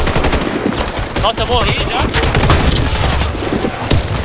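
Bursts of automatic gunfire in the Warface shooter game rattle close and loud, with rapid fusillades overlapping as a player speaks briefly in Portuguese.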